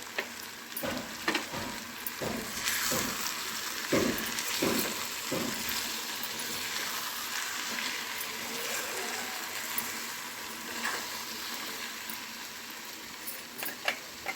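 Brinjal and tomato curry sizzles and fries steadily in a pan after chili powder is added, with a few scraping stirs early on over the continuous close crackle.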